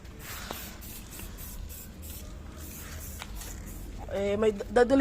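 Spray paint hisses from a can in a steady, close, broadband rush while painting, with voices talking over it and growing louder near the end.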